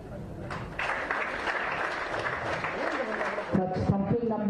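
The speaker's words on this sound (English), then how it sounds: "we have to give them thumping, applause, ovation, which they truly deserve" Sustained audience applause for Bhangra and Kalgadi dance performers at a Goa state formation day celebration, a dense steady clapping that carries across the whole stretch at moderate loudness.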